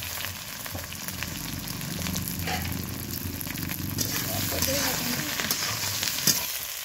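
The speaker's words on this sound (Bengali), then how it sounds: "আলুটা খুব ভালো করে আলু বেগুন একসঙ্গে দিয়ে ভেজে নিয়েছি" Potato and eggplant pieces fry together in oil with turmeric, producing a constant close sizzle and crackle that swells slightly toward the end, with light stirring sounds.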